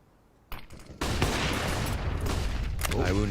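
Counter-Strike gunfire, a single sharp shot followed by a dense, loud burst of rapid overlapping fire under excited shoutcaster commentary.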